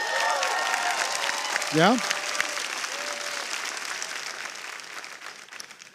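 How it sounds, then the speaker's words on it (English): An audience at a talk on company events gives a sustained round of clapping, and a short spoken word breaks in partway through as the applause slowly tapers. "Those of you who already know this, let me know by a round of applause."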